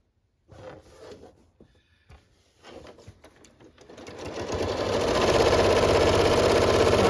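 A sewing machine stitches fabric, starting with a few short bursts and handling clicks, then running up to a steady, loud, fast whir that holds to the end, with no speech.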